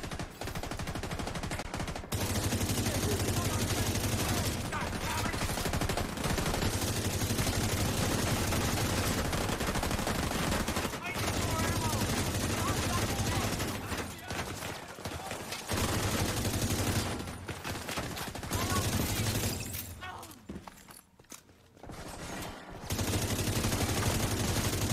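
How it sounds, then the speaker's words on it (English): Sustained heavy gunfire in The Division 2 roars almost continuously, with dense overlapping automatic bursts and explosions. It breaks off only for brief lulls. "Under heavy fire!"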